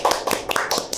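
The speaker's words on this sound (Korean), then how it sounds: "박수!" Brief clapping from a small studio group welcoming guests onto a Korean political talk show, a few quick bursts of hand claps close by with no talk over them.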